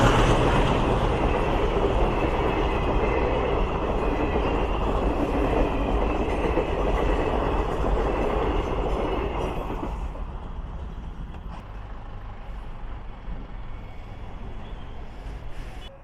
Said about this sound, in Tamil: வாங்க கேட்லேருந்து ட்ரெயின் போகிறத ரசிக்கலாம்